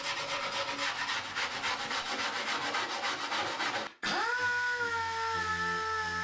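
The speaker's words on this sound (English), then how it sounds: "Sander wasn't really ideal for this. It wasn't really getting it back down to a polished metal." A sander grinds across the rusty metal of a Daihatsu Charade fuel tank with a steady, rough rasp. It cuts out abruptly, and a fading ringing tone follows.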